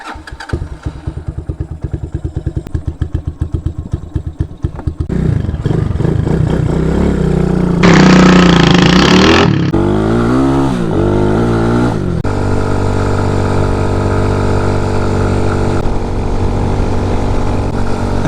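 An RPS Condor 250cc motorcycle with a modified stock exhaust idles with a loud, lumpy exhaust throb, then revs hard and pulls away, the engine droning steadily while riding.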